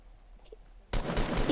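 Gunfire in the Fortnite video game cuts in sharply near the end, a loud burst of rapid shots after near silence, ongoing and close.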